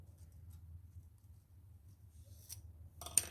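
Scissors snip through fine paint gun cleaning brushes in a quick cluster of sharp cuts near the end, after a quiet stretch with only faint low rumble.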